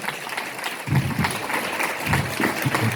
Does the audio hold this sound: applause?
yes